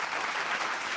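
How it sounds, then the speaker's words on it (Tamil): Audience applause at a Tamil school event, dense and steady clapping from a crowd filling the whole second with no voices over it. "ஒரு உற்சாகமான கைத்தட்டல் கொடுங்க"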